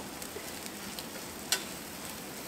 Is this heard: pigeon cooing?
no